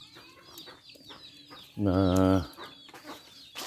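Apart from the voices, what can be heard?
hen clucking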